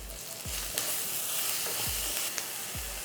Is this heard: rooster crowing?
no